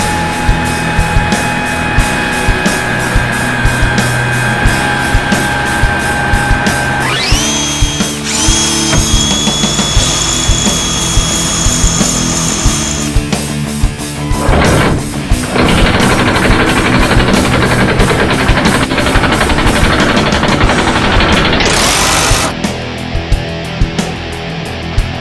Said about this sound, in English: We're now tightening down the bolts, holding the bottom 1/2 inch nut with the wrench